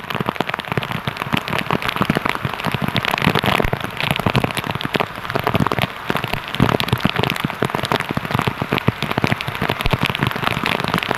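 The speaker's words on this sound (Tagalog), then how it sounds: "Lakas ng ulan." Heavy rain from a typhoon pours down in a dense, continuous drumming close by, loud and steady with no gaps.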